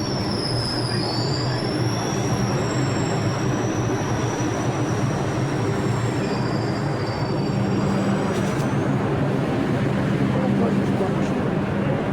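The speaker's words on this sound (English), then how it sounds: "The 2 train is entering the station as I speak." A New York City subway 2 train rumbles steadily into a station, its wheels letting out long, high metallic squeals over the low roar.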